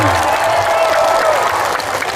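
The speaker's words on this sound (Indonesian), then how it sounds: "semuanya tepuk tangan" Sustained applause from a crowd at a public gathering in Dadap, Indramayu, dense and continuous, with a faint tonal line and low rumble beneath the clapping.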